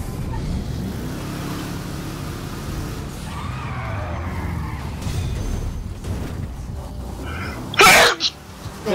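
A single sharp human sneeze bursts out loudly near the end, following a stretch of car engine and driving sounds from the game GTA Online.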